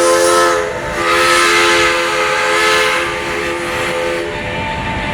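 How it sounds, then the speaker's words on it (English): A loud, steady steam locomotive rumble at a railroaders museum in Altoona, Pennsylvania, with sustained whistle-like tones hovering over a broad hiss, continuous and close for several seconds. "I love the sound of steam in the morning."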